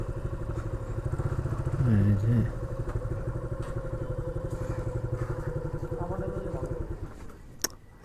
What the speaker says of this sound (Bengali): বাইকগুলো হচ্ছে পার্কিংয়ে রাখতে হবে